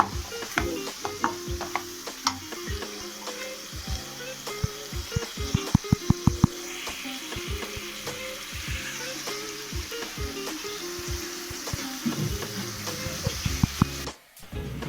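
A spoon repeatedly clatters and scrapes against a pan while stirring garam masala into gongura pasta curry with tomato pieces, over a soft continuous sizzle, close and rhythmic.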